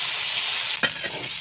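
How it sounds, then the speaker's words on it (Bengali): Dried chandana fish (shutki), coated with turmeric and salt, frying in oil with a loud, steady sizzling hiss, broken once by a brief clatter near the end. "এখন শুটকি ভেজে নিচ্ছি।"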